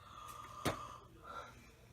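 A quiet, drawn-out yawn with a breathy, airy exhale, soft and close by.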